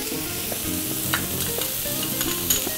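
Garlic sizzles and crackles steadily in a pan with lightly caramelized onion, stirring scrapes over a continuous close frying hiss, no talk.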